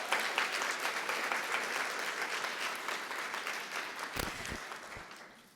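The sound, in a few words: audience applause for speaker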